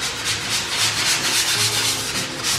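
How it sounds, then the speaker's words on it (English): Steady back-and-forth rubbing of sandpaper on painted wooden bed posts, a rhythmic rasping scrape repeating close up without pause. "So I'm gonna give them more sanding in those areas"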